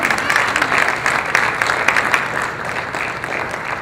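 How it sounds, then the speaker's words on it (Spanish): Congregation applause fills a church, a steady dense clapping that holds loud for several seconds with a slight fade toward the end. "Dale un aplauso al Señor con todo tu corazón."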